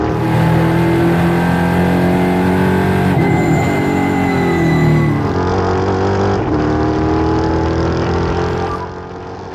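A NASCAR race car in a racing video game roars at full throttle, a loud continuous engine whine with pitch dips and climbs as it shifts, fading slightly at the end.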